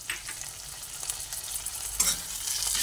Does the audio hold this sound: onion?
yes